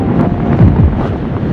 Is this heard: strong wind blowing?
yes